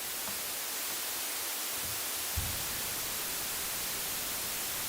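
A white noise test signal hisses as a steady, even broadband wash, continuous and unbroken with no voices.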